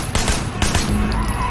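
Gunfire in the video game Sleeping Dogs: a few loud shots crack out in quick succession over a busy background of game noise.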